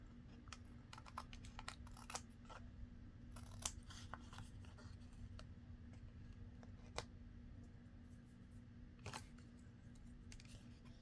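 Scissors trimming ribbon ends in a twisted ribbon project, a series of quiet, crisp snips spread irregularly through a near-silent room.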